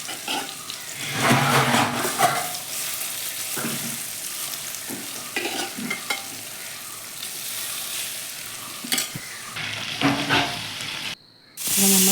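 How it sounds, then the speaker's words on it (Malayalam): Fish frying in oil in a pan in a home kitchen, a steady sizzle with intermittent clatter and scraping, no voices. "അതേ ചട്ടിയിൽ നമുക്ക് ഓയിൽ പാർന്നിട്ട് മീനൊന്ന് പൊരിച്ചെടുക്കാം."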